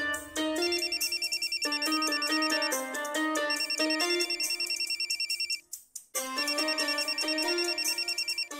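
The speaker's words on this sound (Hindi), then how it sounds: "दीदी, फोन आवत है।" A phone ringtone plays loud and alone, a bright repeating electronic melody that breaks off briefly near the end and then starts again, heard in a Bhojpuri TV drama scene.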